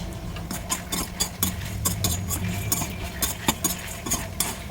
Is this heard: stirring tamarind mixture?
yes